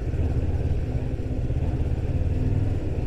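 A Voge 350AC single-cylinder motorcycle engine runs close by with a dense, rough mechanical drone, jerking slightly on an on-off throttle, and no one speaks.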